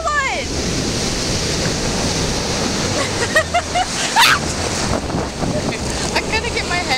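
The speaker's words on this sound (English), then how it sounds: "I just keep being trampled by these waves" Ocean surf crashes and washes on Miami Beach, a loud rolling roar with wind buffeting the microphone, while voices shout and talk over the waves.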